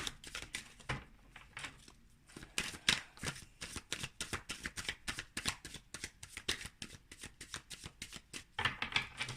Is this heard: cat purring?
no